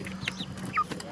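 Free-ranging local chicks and Sonali hens give a few quick clucks and short chirping calls nearby, brief and fairly soft.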